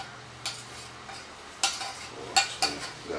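Tomato mixture tipped into a frying pan over low heat and stirred, a few sharp metallic clinks and scrapes of a utensil against the pan over a faint background hiss.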